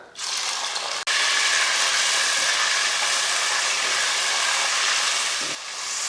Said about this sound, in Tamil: மட்டனோட கொழுப்பு எடுத்திருக்கேன் பார்த்துக்கோங்க இந்த மாதிரி கொழுப்பு எடுத்திருக்கேன் அதையும் சேர்த்துடலாம்